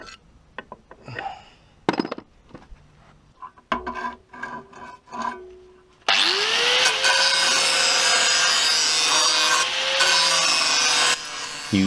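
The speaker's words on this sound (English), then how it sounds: "Using the grinder to grind out all the chips and bumps in the blade." Angle grinder grinding chips and bumps out of a lawn mower blade, starting after several scrapes and handling knocks, then a loud continuous high whine with harsh metal grinding that holds steady to the end.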